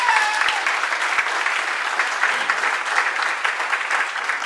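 Dense, steady applause from a seated audience at a talk, many hands clapping together throughout with no voices over it.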